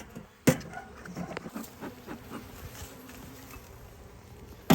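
Honey bees buzzing around an opened hive, a close, faint, continuous drone with a few sharp knocks and handling sounds.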